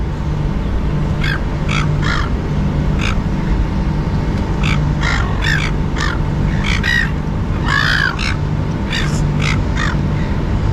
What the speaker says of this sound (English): It's getting even more noisy with about 30 seagulls.